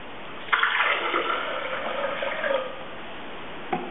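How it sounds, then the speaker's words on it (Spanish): Water poured into a blender jar while making coconut horchata, a bright splashing gush that starts abruptly, runs for about two seconds and trails off, followed by a faint clink near the end. "en el vaso de la licuadora vamos a poner un poco de agua."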